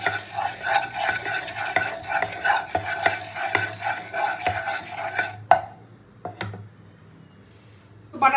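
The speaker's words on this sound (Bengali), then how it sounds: "দিয়ে পনিরগুলো একটু হালকা করে ভেজে নেব" Paneer pieces lightly frying in butter and white oil in a pan, with steady soft sizzling broken by repeated stirring scrapes and clinks, then near-quiet after about five seconds with a few scattered clatters.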